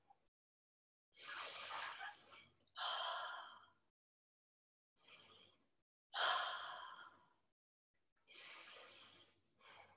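Slow, deep breaths during a yoga forward bend, each long airy inhale or exhale separated by short pauses, close and quiet with no talking.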